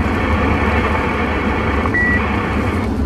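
Vehicle reversing beeps come through a CB radio channel, a short steady tone sitting in constant loud hiss and engine rumble, faint and brief near the end.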